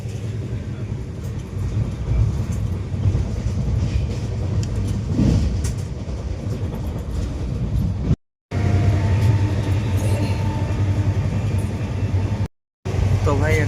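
On board the North East Express in Assam, the moving train gives a continuous low rumble and rattle while passing a station and overtaking another train, steady throughout with two brief dropouts.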